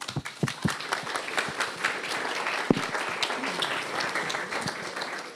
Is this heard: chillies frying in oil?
no